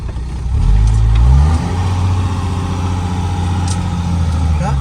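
Nissan Patrol engine revving off-road as the vehicle is pushed to slide, a loud low rumble that swells in the first second and then holds steady, with people talking over it.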